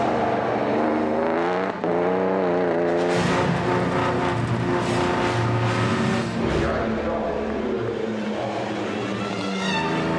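Vintage race cars, Talbots, Lagondas and Bugattis, roar close by at Le Mans. Their loud engines rise and fall in pitch as they race past one after another with no break.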